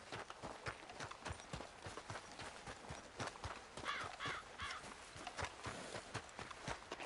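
A horse's hooves clip-clop in a steady walking rhythm, close and clear, with a faint whinny partway through and a little background talk.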